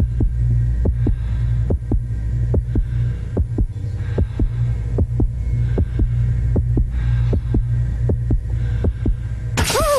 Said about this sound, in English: It's the heartbeat in my ears.